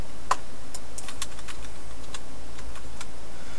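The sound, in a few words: computer keyboard typing fan settings values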